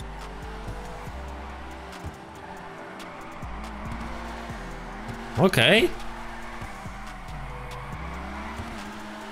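Tires squeal in one short, loud burst as a car drifts in GTA Online's drift mode, standing out over a steady engine drone while someone talks throughout.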